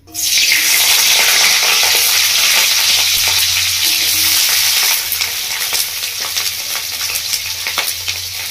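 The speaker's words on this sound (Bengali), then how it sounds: "বন্ধুরা আমি তেলের মধ্যে দিয়ে দিচ্ছি কেটে রাখা পেঁয়াজ" Quartered onion, its layers separated, drops into hot oil with a sudden loud burst of sizzling that holds strong for several seconds, then eases into a softer, crackling fry with faint stirring.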